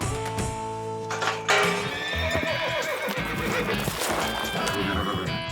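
A young colt whinnies loudly on a ranch in Alabama while its hooves clop and scuff on the ground. The neighs come up close and clear, and other sounds of the animal moving run underneath.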